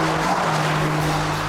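A BMW 1-series M Coupe's rear tires slide and squeal under power while the engine drones, a loud, close, continuous skid over about a second and a half.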